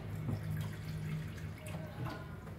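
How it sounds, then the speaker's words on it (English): Water splashes and trickles briefly into a cooking pot, a short close pour with soft gurgling. "I will add this water again."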